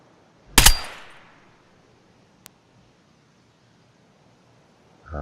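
A single sharp, loud gunshot from US rounds in Escape from Tarkov at a 200 m range, followed by a fading echo tail, a faint click later and near silence otherwise.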